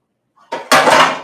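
Frying pan pulled out from among pots and pans in a home kitchen: a faint shuffle, then a sudden loud metallic clatter and rattle of cookware knocking together, close and brief, with no talking.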